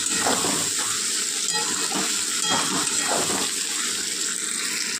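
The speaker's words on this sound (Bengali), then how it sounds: "আদা রসুনের কাঁচা গন্ধটা অবধি চলে যাওয়া অবধি কষিয়ে নেব।" Ginger and garlic, added with vegetables, sauté in hot oil for a Bengali katla fish dish, producing a loud, unbroken rushing hiss that stays close and constant and then cuts off abruptly, with no one speaking.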